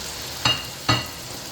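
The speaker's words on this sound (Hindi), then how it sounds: "ये अब कटे हुए टमाटर डाल देंगे सारे, इसे भी हम 1 से 2 मिनट भुनाई करते हैं इसकी" Chopped tomatoes frying in a pan for masala macaroni, giving two short stirring scrapes over a steady close sizzle with no voices.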